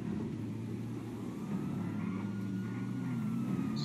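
An engine drones steadily with a low rumble in GTA V, its pitch climbing gradually as the vehicle speeds up.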